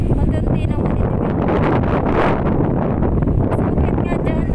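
Strong wind blowing outdoors on a roadside, a steady, loud roar buffeting the microphone throughout with gusty swells and rustling, no voices standing out.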